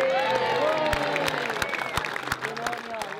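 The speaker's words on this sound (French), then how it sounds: "ils l'ont bien applaudi." A crowd applauds and cheers at an Australian rodeo during Beef Week in Casino, scattered clapping with distinct sharp claps under voices and shouts.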